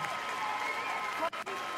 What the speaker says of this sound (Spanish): Fortísimo aplauso para Chanel